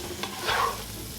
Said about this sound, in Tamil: ப்ரான்ஸ் ஆல்ரெடி ஃப்ரை பண்ணி வச்சுருக்க ப்ரான்ஸு இதில் ஆட் பண்ணலாம் மிக்ஸ் பண்ணி விடுங்க எல்லாமே